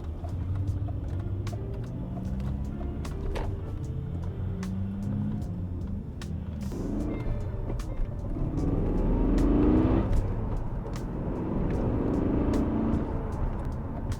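A car drives out of a Trader Joe's parking lot with a continuous engine rumble that swells briefly as it accelerates, heard up close.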